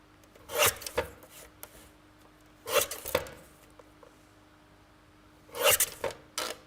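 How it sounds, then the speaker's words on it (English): A small paper guillotine trims decorated card: three separate bursts of sharp rasping, scraping cuts, each about half a second, spaced apart by quiet, close and fairly loud with no talking. "I'm just going to bring in my small guillotine. And we will just trim those down."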